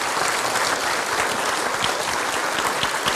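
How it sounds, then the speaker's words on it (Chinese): Steady, dense applause from an audience welcoming a speaker to the stage at a book launch and Buddhist forum, continuous and even throughout with no voices over it. "掌声欢迎陈老师上台。"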